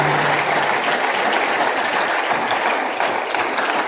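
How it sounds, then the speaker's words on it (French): A congregation applauds at a St Francis of Assisi feast-day celebration, dense, loud clapping that fills the space evenly from start to finish. "Nous allons applaudir."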